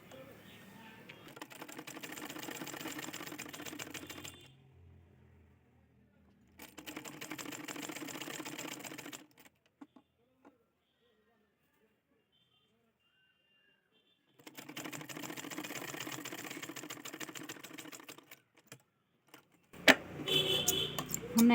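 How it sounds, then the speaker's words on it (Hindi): Sewing machine stitching the side seam of a blouse: three separate bursts of fast, even needle clatter, close and clear, with pauses of silence between them and some handling clicks at the end. "हमने एक साइड सिलाई लगा दी है"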